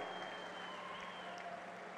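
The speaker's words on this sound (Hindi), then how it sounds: "अपने स्थान पर खड़ा होकर जोर से ताली बजाकर धन्यवाद करिए हल्दी बोर्ड के लिए" Steady, dense clapping from a large audience at a political rally in Nizamabad, Telangana, sustained evenly throughout with no pauses.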